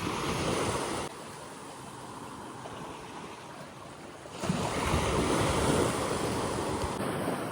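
Small sea waves wash onto a shallow beach near Venice, a broad continuous surf rush under gusts of wind buffeting the microphone, quieter for a few seconds in the middle and then swelling again.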